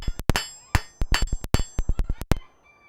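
A hammer rings against hot metal on an anvil in a smithy, a fast, uneven run of about a dozen loud, close metallic blows, each leaving a short ring, before it stops.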